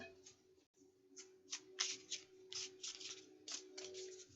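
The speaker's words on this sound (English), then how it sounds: "I'm just going to shuffle this up until it feels good" Soft riffling and sliding of a tarot deck being shuffled by hand, a string of quick papery flutters and taps close by, fairly quiet with a faint steady hum underneath.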